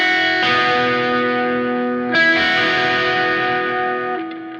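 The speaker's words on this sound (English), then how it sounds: "On a new track, we're going to add an ambient guitar layer in a higher register" Ambient electric guitar layer in a higher register, sustained shimmering chords ringing with effects, a second chord swelling in midway, loud and close with no talking.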